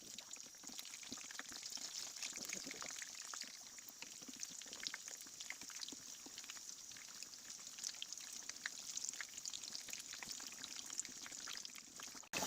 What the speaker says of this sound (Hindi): सबसे पहले ना हम समोसे फ्राई करेंगे